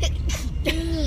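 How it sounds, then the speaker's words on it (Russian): An elderly woman gives a single sharp sneeze at close range, a quick burst followed by a brief voiced sound as someone speaks a word. "Бабуля нормально чихнула"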